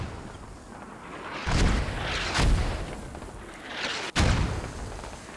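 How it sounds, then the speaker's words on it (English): Mortar rounds burst in a military combat video game, three heavy booming blasts spaced a second or so apart, each a broad rumbling impact that fades slowly, with a sharp cut just before the last one. "Mortars now"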